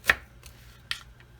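A knife chops through an onion on a cutting board, a few sharp, close taps spaced out irregularly with quiet pauses between them.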